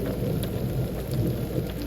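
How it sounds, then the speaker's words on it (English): Steady rain pours during a spring thunderstorm on a trout-fishing trip, with low rolling thunder rumbling continuously underneath, dense and fairly close throughout with no voices. "The rain was fun for a little while"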